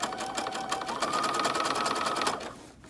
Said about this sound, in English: I'm just letting the sewing machine take it